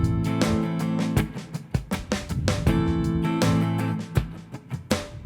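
Funk guitar rhythm with a steady beat, the sixteenth notes played as muted dead-note scratches, giving a dense, percussive chopping pattern with sharp accented strums, loud and alone.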